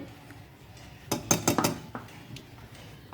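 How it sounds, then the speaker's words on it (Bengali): A metal spoon clinks and taps against a bowl in a quick cluster of bright strikes while hot milk is stirred into milk powder, followed by a few softer knocks and quiet pauses. "এটা আমি গুলিয়ে রেখে দেবো চামচে করে"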